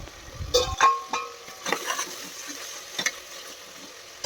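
Cashews and vertically sliced tomatoes fry in oil for egg biryani, giving a moderate sizzle after a few sharp clatters at the start, with occasional stirring.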